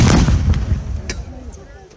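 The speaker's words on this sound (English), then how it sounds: "the Union Army opened fire on Fort Macon with their artillery and proceeded to blast the fort for 11" Civil War artillery cannon fire bombarding a masonry coastal fort, heard as a loud deep boom fading into a rumbling decay, with a couple of sharper distant reports following.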